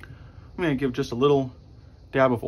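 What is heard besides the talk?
No everyday noise stands out behind the speech.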